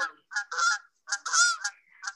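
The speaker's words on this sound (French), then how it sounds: "Et voici, effectivement, vous avez un cri de bernache." Canada goose calling outdoors: several loud, nasal honks in short bursts, some paired and some single, close and clear against a silent background.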